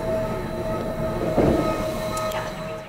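Steady rumble of a train in motion, continuous and loud, with a brief rise in rattling midway and faint high squeals of wheels.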